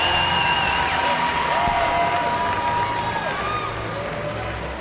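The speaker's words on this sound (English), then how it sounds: "Give Josh a huge round of applause." Crowd at the STIHL Timbersports U.S. Hot Saw Showdown applauding and cheering the new champion, a steady dense roar of clapping and cheers with whistle-like tones, near and loud throughout.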